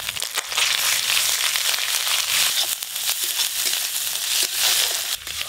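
Ginger sizzles and crackles steadily in hot oil in a pan, a dense, close frying hiss with scattered pops and occasional stirring scrapes, no talking over it.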